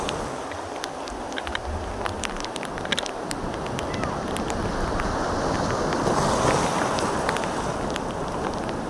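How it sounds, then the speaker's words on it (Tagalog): Ocean surf rushes and rolls steadily, with wind buffeting the microphone and a swell of crashing water building toward the end. "Kita niyo naman ang alon oh."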